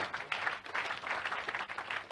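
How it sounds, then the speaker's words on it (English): Audience at a university public lecture honouring a late emeritus professor giving a brief round of applause, fairly quiet clapping from a moderate crowd, uneven and fluttering. "A round of applause."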